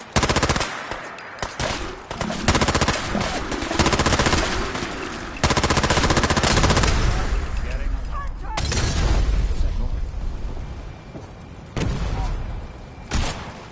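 Gunfire in a Fallout 4 battle against attacking creatures: loud, dense bursts of rapid automatic fire and heavy shots pound almost continuously, with brief gaps and shouted voices in the mix.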